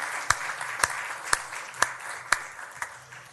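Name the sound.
audience applause at city council meeting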